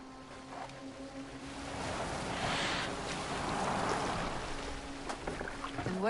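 A boat being steered across open water in Assassin's Creed Valhalla, with a steady wash of waves and hull splashing that swells in the middle, plus a faint tonal hum underneath.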